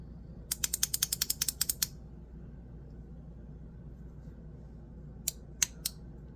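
Ratchet attachment of a Mackie Drop being handled: a quick burst of about a dozen sharp ratcheting clicks, a pause, then three more isolated clicks, close and crisp over a quiet hum.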